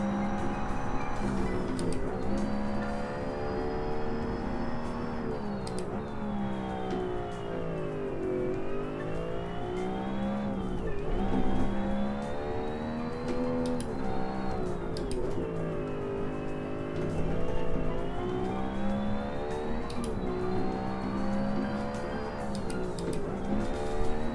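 Car driving in the BeamNG driving game, an engine note that rises and falls steadily with gear shifts and revving, continuous and close throughout.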